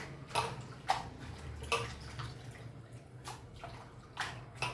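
Water splashes and pours in short bursts, with several sloshing rinses close by over a low steady hum.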